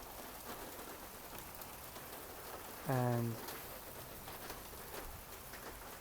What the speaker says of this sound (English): Finally, we got some rain.